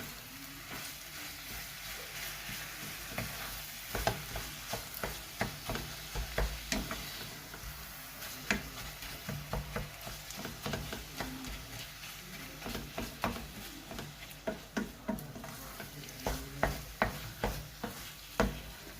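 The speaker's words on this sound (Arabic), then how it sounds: "غادي نخلط هادشي مع بعضو كامل." A spoon scraping and stirring kofta, vegetable and cheese filling in a sizzling pan, with steady frying hiss under repeated rhythmic scrapes and knocks, close up, no speech.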